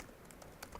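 Quick, light keystrokes on a computer keyboard while writing code in an editor, a few faint clicks over a low background hum.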